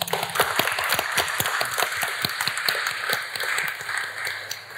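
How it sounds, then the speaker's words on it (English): Steady applause from a crowd, dense clapping continuing evenly for several seconds at moderate distance with no voices. "Big round of applause"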